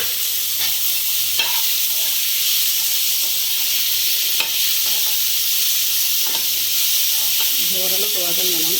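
Onion and tomato being sautéed in a pan give a continuous close sizzle, punctuated by several scraping stirs, with a brief voice-like murmur near the end.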